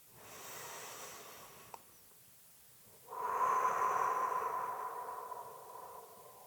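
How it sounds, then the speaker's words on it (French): A person breathes slowly and deeply during a relaxation session in a hotel room, a soft breath in followed after a pause by a longer, louder exhale, close and intimate. "Donc on inspire, on expire."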